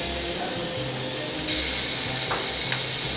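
Seasoned shrimp sizzle loudly in a very hot frying pan, a continuous close crackling hiss with a brief surge of spitting steam, no voices over it.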